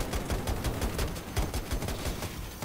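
An anti-aircraft gun in Battlefield 2042 fires in a fast, continuous stream of rhythmic booming shots, dense and steady across the whole stretch with no talking.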